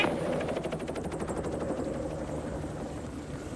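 A helicopter churns loudly nearby on a dusty landing site in Malta, its rotor producing a steady rapid chopping thump over engine roar throughout, with no voices audible.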